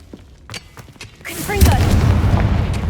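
Confringo fire spell blast in the Hogwarts Legacy video game, a few quiet thuds and clicks giving way to a loud booming burst that rolls on as a dense rumble.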